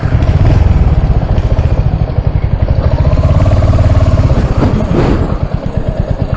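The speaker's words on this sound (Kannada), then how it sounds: "ಒಂದ್ಸಲ ನ್ಯೂಟ್ರಲ್ಲಿ ಹಾಕ್ಬಿಟ್ಟು ಸೌಂಡ್ ಕೇಳಿಸ್ತೀನಿ ನೋಡ್ರಿ." Royal Enfield Hunter 350 motorcycle idling in neutral, a loud close single-cylinder thump with a steady rapid beat and light mechanical clatter, running alone without speech.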